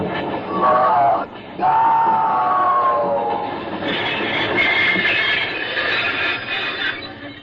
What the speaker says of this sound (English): By the ghost of St. Patrick, is a locomotive.